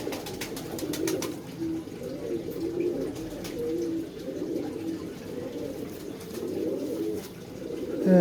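Pigeons in a park give repeated low, soft cooing calls in overlapping rolling phrases, heard close, with a few faint chirps and clicks in the background.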